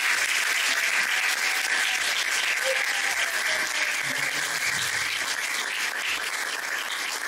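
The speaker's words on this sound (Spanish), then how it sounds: "voy a pedirles el favor que recibamos con un aplauso bien fuerte a Santiago Alarcón." Audience applause at a live talk, a dense, steady wash of clapping from a crowd that stays loud and even throughout, with no voices over it.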